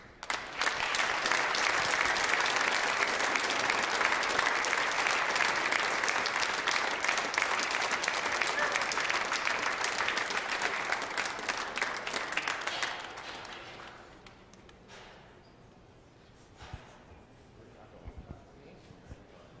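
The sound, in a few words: audience applause at squash tournament finals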